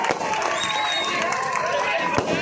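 A crowd at a political rally in Shahganj, Aurangabad, keeps up a loud, continuous wash of applause and cheering for the full stretch, dense and near with no single voice standing out.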